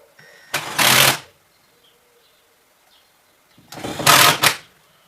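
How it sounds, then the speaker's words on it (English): A screw gun driving screws into drywall corner bead, two separate bursts of whirring drive a few seconds apart, close and loud, with quiet pauses between. "I'm using a screw gun."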